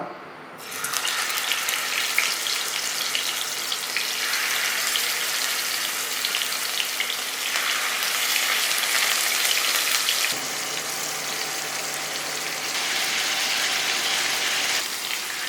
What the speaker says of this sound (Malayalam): അപ്പോൾ നമ്മുടെ എണ്ണ ചൂടായിട്ടുണ്ട്. നമുക്ക് ഓരോ മീനും ഇട്ട് കൊടുക്കാം.